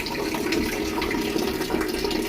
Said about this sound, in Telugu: ఆన్ చేసుకున్న తర్వాత వాటర్ వేడిగా వస్తున్నాయి.